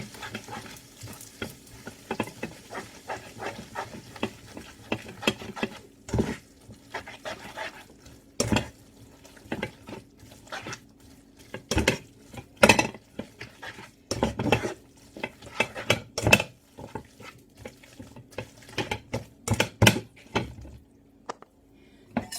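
A utensil stirs spaghetti carbonara with egg in a pan in quick bursts of scraping and clattering, separated by brief pauses, over a low sizzle and heard close up.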